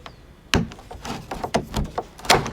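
A plastic door lock on a Suncast Craftsman horizontal storage shed snaps into its housing with one sharp click, followed by a series of hollow plastic knocks and rattles as the part settles, close and fairly loud.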